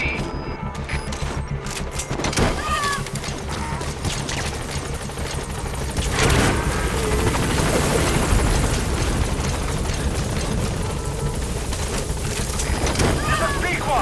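The Pequod helicopter arrives at a landing zone in Metal Gear Solid V: The Phantom Pain, its rotors droning steadily and swelling louder partway through, with bursts of gunfire and voices mixed in.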